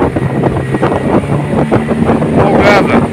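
An outboard motorboat fitted with a Gladiator 9.9/15 motor cruises along a river channel, its engine droning steadily beneath wind buffeting the microphone, loud and close, with a brief whine near the end.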